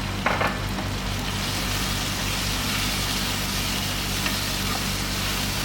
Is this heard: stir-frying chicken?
yes